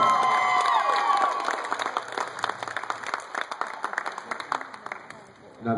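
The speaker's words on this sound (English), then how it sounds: "Give them all a round of applause." A school idol-contest crowd applauds and cheers its six finalists, with a few shouts and whoops over the start, settling into scattered clapping that thins out then swells again at the end.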